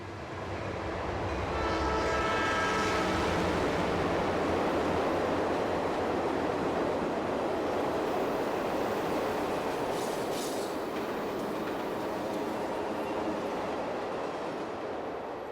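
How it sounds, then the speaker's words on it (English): A train rumbles past, loud and close, heard from inside a tunnel, a steady heavy roar of rolling wheels on rails that swells and slowly fades, with a brief squeal partway through. "when that train comes rolling by"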